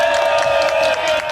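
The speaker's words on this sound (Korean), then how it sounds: "이 자리에서 이 노래 부르는 우리 자르치한테 큰 박수 부탁드리겠습니다." A crowd at an outdoor rally of migrant shipyard workers at HD Hyundai Heavy Industries cheers and claps for a singer, a loud, steady roar of voices and applause with no break.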